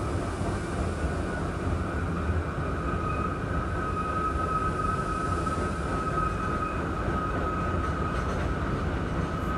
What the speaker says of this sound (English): Eight-car R30 shuttle.